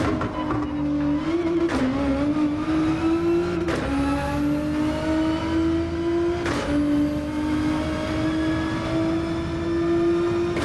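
A race car in Gran Turismo 7 revs hard through its gears, the engine note climbing steadily with several sharp upshifts, loud and continuous without any talk.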